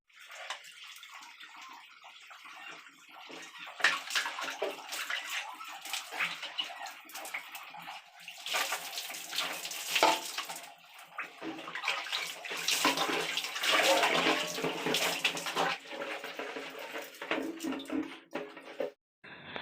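Water running and splashing during a bath in a home bathroom, a continuous close gush that swells and shifts as it is used, ending abruptly.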